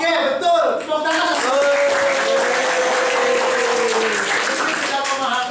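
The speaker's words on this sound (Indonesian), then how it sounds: "Tepuk tangan." Classroom applause from students during an economics lesson, a broad steady wash of clapping mixed with voices and children's chatter throughout.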